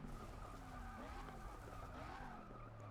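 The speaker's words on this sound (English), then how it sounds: "this thing on the track only sounds better than the Hellcat whenever you downshift" A muscle car in the racing game Forza 6, lapping a track as its engine crackles on downshifts, with tires squealing and skidding. It comes across as a steady, close engine drone with rising and falling tones and no speech.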